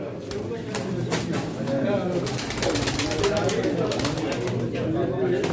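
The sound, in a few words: pigeons cooing at a pigeon auction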